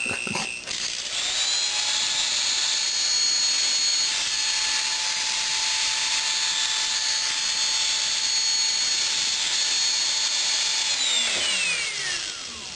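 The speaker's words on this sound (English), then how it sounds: "And this motor is pulling hard." A small DC electric motor on a homemade rectifier supply, drawing about 6 amps at roughly 1.8 volts, whines steadily under heavy load at close range, spinning up at the start and winding down near the end.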